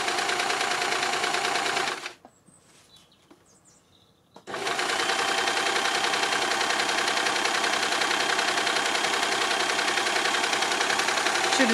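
An overlocker with two needles sews a rolled hem and seam, running in a loud, fast, steady mechanical whir that stops for about two seconds and then resumes at full speed until the end.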